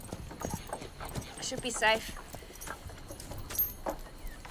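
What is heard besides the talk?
horse hooves clip-clopping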